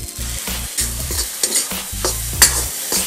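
Freshly cooked rice stir-fries in a hot wok for shrimp fried rice, sizzling steadily while a metal spatula scrapes and clanks in quick, irregular strokes, close and loud.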